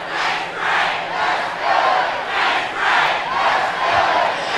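A large crowd of parade spectators lines Colorado Boulevard, their roar swelling and falling in steady rolling waves, dense and continuous, with no single voice standing out.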